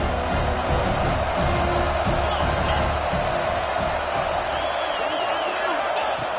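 A big crowd at a Clemson football game keeps up a steady, dense roar throughout, with voices mixed into the noise and no break in the din.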